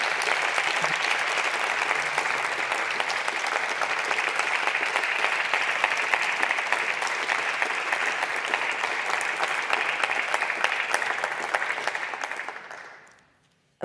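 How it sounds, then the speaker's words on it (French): Sustained, even applause from deputies filling a parliament chamber, a thick wash of clapping that holds steady for about twelve seconds before dying away quickly at the end. "Applaudis sur tous les bancs."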